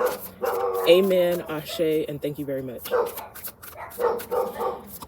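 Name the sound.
neighbor's dogs barking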